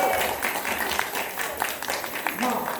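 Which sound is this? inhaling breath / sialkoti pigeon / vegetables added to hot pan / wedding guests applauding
wedding guests applauding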